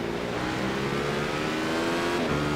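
A Radical SR8 race car with a V8 engine laps Interlagos in a racing video game, heard from the cockpit: the engine holds a loud, near, sustained howl at high revs, with a short shift-like dip near the end.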